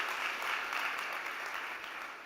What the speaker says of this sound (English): Can we have a big round of applause for Francisco Valferreira from Money?